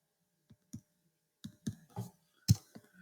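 Scattered single computer mouse clicks, close and crisp, arriving at uneven intervals with short silent gaps between them.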